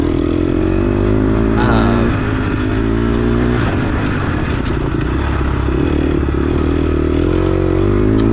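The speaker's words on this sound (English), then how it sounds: "You hear that chain chatter?" Dirt bike on an off-road track during a ride day in Lometa, Texas, engine droning steadily and loud close up, with rattling chain chatter and clatter mixed in as it brakes and takes a corner.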